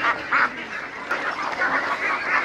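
A large flock of more than a thousand Vân Đình ducks quacks in overlapping, continuous waves, a dense chorus of calls that rises and falls without a break.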